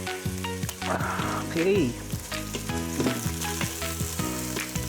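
Pork browning in a frying pan for tomato-stewed pork gives a steady, close sizzle, with a brief spoken word and some background music over the constant frying.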